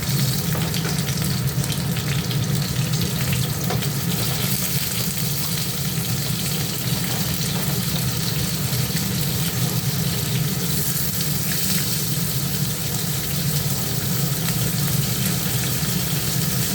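Bata fish fry in a pan of oil over a medium gas flame, giving a loud, unbroken, dense sizzle that holds steady throughout with no talking.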